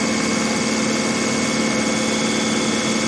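A 48-volt DC motor on a car automatic gearbox rig, its controller wide open at full throttle, gives a steady, loud, continuous whine and hum with no change in pitch.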